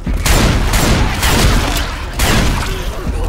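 Gunfire in Left 4 Dead 2, loud close bursts of shots in rapid succession with brief gaps, filling the whole stretch with harsh, dense blasts.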